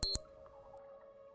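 A short electronic timer beep from the factory-building game Factorio, a single bright tonal blip lasting a fraction of a second, followed by a faint steady hum underneath.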